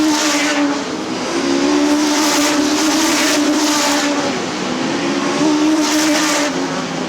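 Stock cars race past at Arlington Stadium, a loud, continuous engine roar that swells and fades as cars pass close by, with no talk over it.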